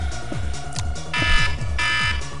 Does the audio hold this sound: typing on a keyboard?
no